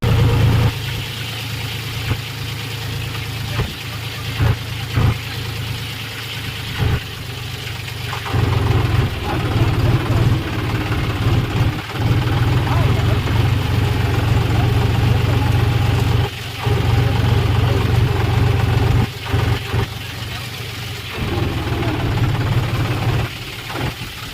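A heavy tractor engine runs steadily at close range, a low rumbling idle that swells and dips, with brief gaps and occasional clatter, while being pulled from a river.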